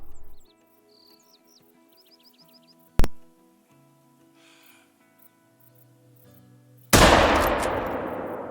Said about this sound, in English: So I think we're just going to sit here, try and lay prone and go for a perfect double lung shot.